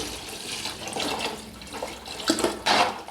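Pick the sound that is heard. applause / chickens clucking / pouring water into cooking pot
pouring water into cooking pot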